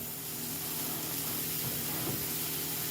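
Steady hissing sizzle of turkey burger patties frying in a hot pan, constant and close, with no talking.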